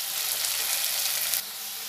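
Potato pieces fry in oil in a covered pan, giving a steady, bright hiss of sizzling that holds evenly, then drops a little in level near the end, with no talking.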